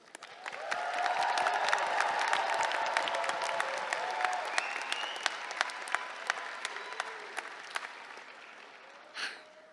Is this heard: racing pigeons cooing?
no